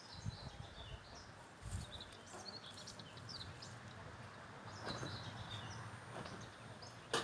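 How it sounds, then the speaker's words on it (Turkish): Birds chirp and twitter faintly in an open village setting below snow-capped Beydağı in Turkey, scattered brief calls over a steady outdoor hum with occasional low rustles and bumps. "Kuş sesleri"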